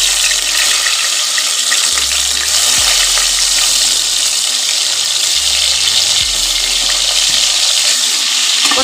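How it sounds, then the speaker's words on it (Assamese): Pointed gourd frying in mustard oil in a pan, making a loud, dense, continuous sizzle heard up close, with low thumps and rumbles underneath. "এতিয়া মই ইয়াতে প্ৰথমে পটলখিনি ফ্ৰাই কৰি ল'ম।"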